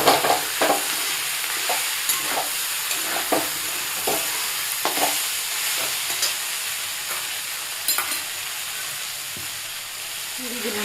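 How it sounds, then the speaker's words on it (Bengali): Spice masala sizzles and fries in a pan while a utensil stirs it in repeated scraping strokes, steady and close with no talking. "মশলাটা খুব ভালোভাবে ভাজা হয়ে গেছে।"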